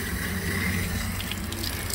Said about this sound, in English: So I got the water running.